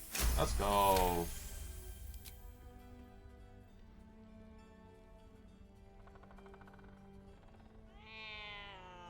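A cat meows in the video game Baldur's Gate 3, a loud harmonic cry at the start followed by quieter game sounds, with a second shorter rising meow near the end.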